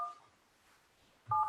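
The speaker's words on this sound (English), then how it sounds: "I'm going to dial one more time" Telephone keypad dialing tones during a school board meeting call: a short burst of beeps at the start, a quiet gap, then another loud cluster of tones at the end.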